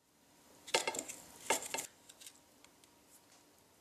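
Two bursts of rough scraping as a knife edge rasps over fresh ginger skin, close and dry, the first near the start and the second a moment later, then fading to faint light scratches.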